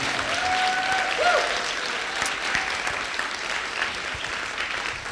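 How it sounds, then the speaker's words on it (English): Audience applause for the host at a Census 2020 community dialogue event in Fairfax, a sustained round of clapping from a room full of people that gradually tapers off. "I don't feel like we gave a loud enough round of applause to our host."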